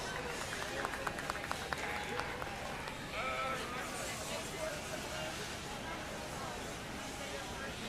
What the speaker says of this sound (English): Let's give all these exhibitors another great big round of applause.